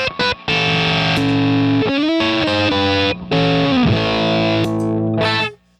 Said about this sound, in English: Stays really present even with the distortion.